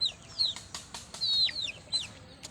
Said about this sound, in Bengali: এই মুরগিগুলোকে আমরা এই ঘরের ভিতরে পালন করে থাকি।